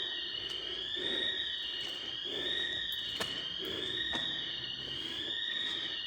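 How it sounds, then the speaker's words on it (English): A fire alarm in an abandoned Toys R Us store blares continuously, a high warbling tone that rises and falls in a steady cycle, echoing through the empty building. "The alarm's already going off."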